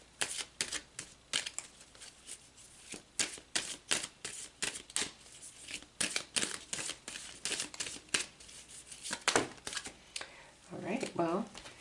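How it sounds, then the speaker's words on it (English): Tarot cards being shuffled and pulled, a run of crisp papery flicks and snaps in an uneven rhythm, close and fairly quiet. "let's pull another card"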